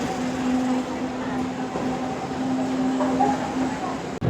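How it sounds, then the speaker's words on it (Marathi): A train pulling in makes a loud, close, steady rumble with a sustained tonal whine, ending in a sudden click. "जस्ट ट्रेन आली"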